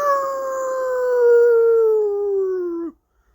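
A dog named Frack howls in one long, loud, drawn-out note that slowly falls in pitch for about three seconds, then cuts off abruptly into silence.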